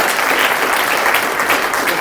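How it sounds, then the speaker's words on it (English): A festival audience gives dense, even applause that holds at full strength for the whole stretch, many hands clapping together at the Digital Festival 2017 livestream. "Guys, a round of applause,"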